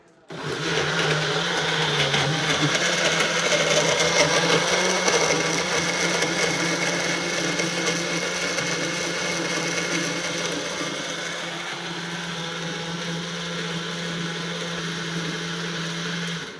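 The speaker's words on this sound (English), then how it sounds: "Now let's put it in the grinder and it will, the work will be done" A mixer grinder whirs loudly and steadily as it blends a strawberry kulfi mixture, its motor note dropping a little partway through and running on until it stops at the end.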